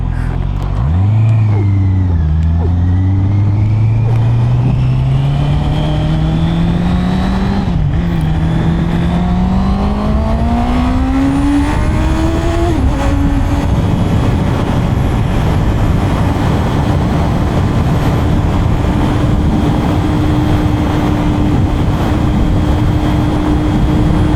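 A Honda CB650R motorcycle pulls hard through the gears, its engine note climbing, dropping at each shift and climbing again, then holding a high steady drone with loud wind rush close by.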